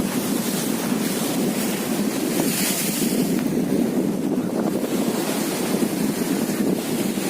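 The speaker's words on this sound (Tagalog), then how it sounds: "Wow, ang lakas ng alon." Strong sea waves pound the Bicol coast during Typhoon Quinta, a loud unbroken roar of surf mixed with heavy wind buffeting the microphone, sustained throughout.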